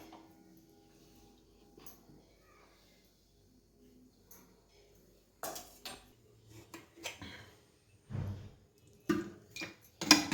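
A kadhai wok set down on a home stove to heat, a few light metallic clinks and knocks early on, then louder clattering and rustling bursts toward the end.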